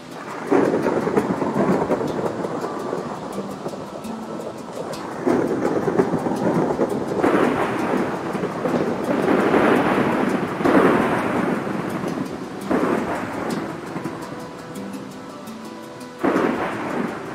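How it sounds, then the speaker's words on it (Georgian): Thunderstorm weather in the video game Minecraft, with a steady wash of rain and repeated rolling thunder swelling and fading every few seconds, heard on its own with no talking. "ხედავთ ჭექა კუხილი და ელვა"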